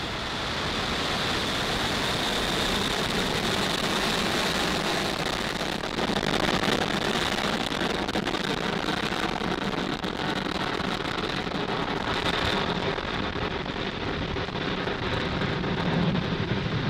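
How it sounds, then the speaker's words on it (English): Continuous, loud, broadband roar from the Falcon 9 rocket's engines just after liftoff from Pad 40 at Cape Canaveral Space Force Station, steady and rumbling with crackling texture throughout, no voices over it. "Falcon 9 has successfully lifted off from Pad 40 at Cape Canaveral Space Force Station"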